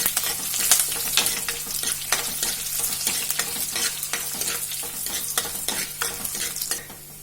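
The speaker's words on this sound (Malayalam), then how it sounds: "നന്നായിട്ടൊന്ന് ഇളക്കി കൊടുക്കാം." Mustard seeds, shallots, curry leaves and dried chilies fry in hot oil while being stirred, giving a dense, crackling sizzle with rapid popping and spatula scrapes, fading slightly at the end over a faint steady hum.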